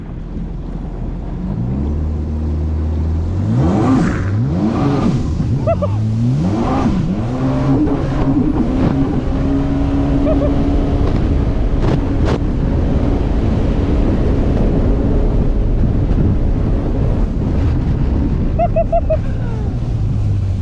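A 2021 Yamaha GP1800R SVHO Stage 1 jet ski on water, engine revving up through rising and falling surges into a loud sustained roar with wind buffeting, close to the rider.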